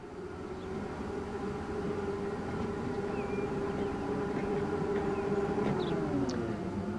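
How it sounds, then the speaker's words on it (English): Trams roll out of a depot in Transport Fever 2, a steady low rumbling hum with a droning tonal whine and faint squeals, continuous for several seconds. "now let's spawn some trams from the hidden vanilla depot."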